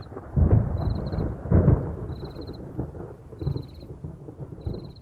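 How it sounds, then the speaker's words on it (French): Low, rolling thunder rumbles in the distance over the Kalahari in a few swelling waves, while a faint, high chirping repeats at regular intervals above it. "Le tonnerre résonne au loin dans le Kalahari."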